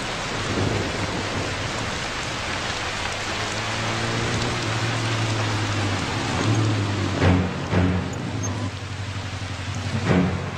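Heavy rain pours down steadily, a dense hiss throughout, with low rumbling and a few sharper knocks and gusts toward the end.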